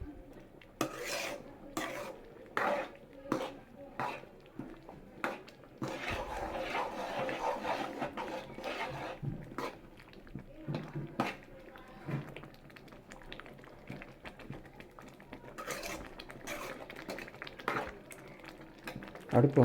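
Wheat semolina being stirred into boiling water in a pot, irregular scraping and clinking strokes of a spoon against the metal, close, with a voice talking over it at times.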